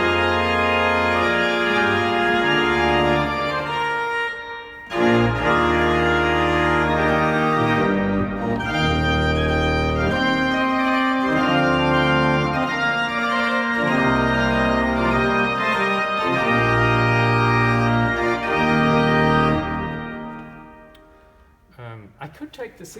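An 1806 Schiörlin pipe organ in Gammalkil plays a full pleno registration with the trumpet stop added, sustaining rich, loud chords that shift steadily before the sound releases and trails off at the end.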